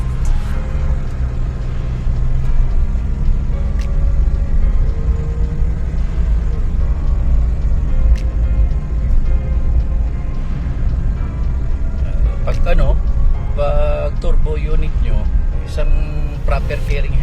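Suzuki DA64W 4x2 turbo wagon engine pulling steadily at around 3,000 RPM while driving, a continuous low rumble with road noise beneath someone talking throughout.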